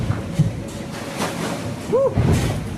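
Wind-blown open-sea noise with broad rushing surf and periodic thuds as a boat slaps through choppy waves, steady and fairly close.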